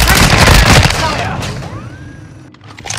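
Dense gunfire and booming impacts in a multiplayer Hardpoint match of Call of Duty: Modern Warfare 2 with an RPK light machine gun, loud and continuous at first, then tapering into scattered shots and game sounds.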